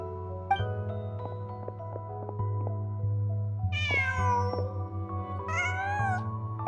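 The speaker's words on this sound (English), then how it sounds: "Just a cat." A cat in the Genshin Impact video game gives two drawn-out, rising meows over steady background game music, fairly clear and close.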